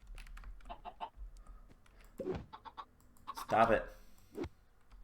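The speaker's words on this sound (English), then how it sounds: "Unruly chickens." Game chickens from the Minecraft Stoneblock modpack cluck in short bursts, a louder squawk near the middle, while someone talks over them.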